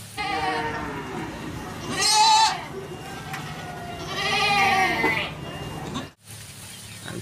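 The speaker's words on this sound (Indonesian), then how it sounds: "Di sini ada domba" A sheep gives two long, wavering bleats a few seconds apart, loud and close, with quieter background noise between them.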